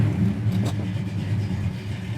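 A 1968 Ford Torino engine idling, a steady close mid-pitched rumble with a brief rise near the start, running alone without talk.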